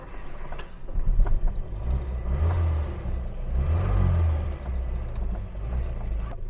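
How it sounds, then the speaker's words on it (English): A 1978 Volga GAZ-24 sedan's engine runs with a low rumbling whir that swells and eases as it revs, steady and fairly close, with no voices over it. "we can start it with a hand crank or we can start it with the key"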